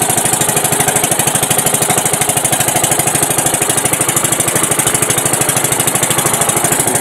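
A boat's engine runs steadily and loudly close by on open water after big waves, with a fast, even mechanical chugging throughout and no talking.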